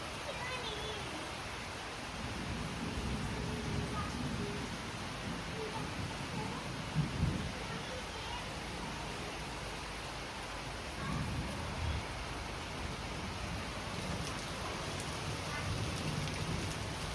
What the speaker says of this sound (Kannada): ತುಂಬ ಜೋರಾಗಿ ಗುಡುಗು ಸಿಡ್ಲು ಸಮೇತ ಮಳೆ ಬಂದಿತ್ತು